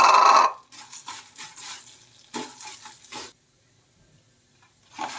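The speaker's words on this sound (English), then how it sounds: "I'll add the Maggi and saute it for a minute." Dry Maggi noodles tossed and sautéed in a heated pan: loud bursts of scraping and crackling as the noodles are stirred, separated by short pauses and near silence.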